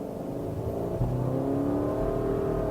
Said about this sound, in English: You hear it kind of rev up, you hear it rev down.